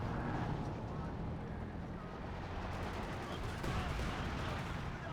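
Gunfire from an MG42 machine gun in the World War II strategy game Company of Heroes 2 rattles amid a dense, constant battle din of explosions and weapon fire, loud and continuous.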